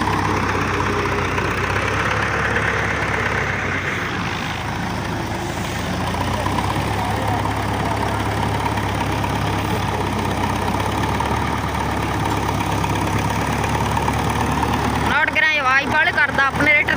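A tractor engine idles in a steady, continuous low rumble close by, with a brief rougher clatter near the end and faint voices in the background.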